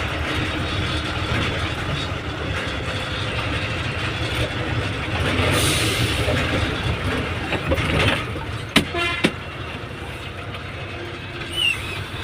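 Vehicles and trucks idle in stopped traffic near a temple in Hyderabad, a steady low engine rumble filling the scene, with a few brief clanks and a short horn-like burst late on; no talking.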